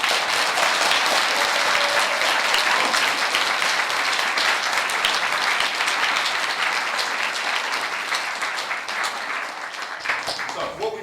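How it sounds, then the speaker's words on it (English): An audience gives a long round of applause after a performance of We'll Meet Again, dense steady clapping from a full room that thins slightly toward the end, with faint voices underneath. "So can we give them a very big clap?"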